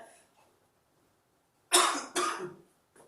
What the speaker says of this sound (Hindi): खांसी हो रही है तो डोंट बी पैनिक, कोरोना नहीं है